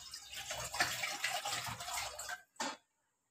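A litre of water pours into a pan for sugar syrup in a steady splashing stream for over two seconds, then a brief final splash, close and clear with no talking.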